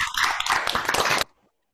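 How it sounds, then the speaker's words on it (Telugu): Hands clap quickly and repeatedly in praise of a child at a children's club lesson, a dense patter lasting about a second before cutting off into silence. "వావ్ అభిషేయ బాన్ చాలా బాగా చేశారు వెరీ గుడ్ నానా క్లాప్స్"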